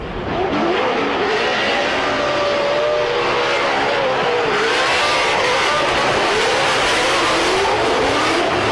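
A Formula Drift RTR Mustang engine roars close by at Long Beach, revving and accelerating continuously with rising and falling pitch, loud throughout.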